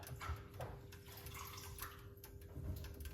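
Tap water runs and splashes steadily as parsley is washed in a sink, a close, continuous trickling with small drips throughout.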